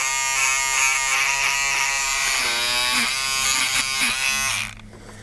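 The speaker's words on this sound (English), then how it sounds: "I'm going to use my beard trimmers now to get this hair, nice spiky hair, off of the ears." Electric beard trimmer buzzing steadily as it shaves spiky guard hair off a hare's ears for fly-tying dubbing, close and loud, the pitch wavering as it runs through the fur before cutting off near the end.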